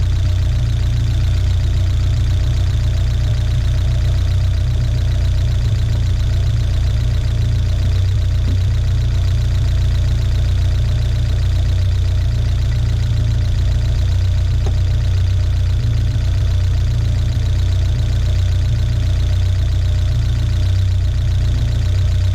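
A 1979 Fiat Spider 124 engine idles steadily at close range with its radiator fan whirring alongside, a loud continuous low rumble with no talking.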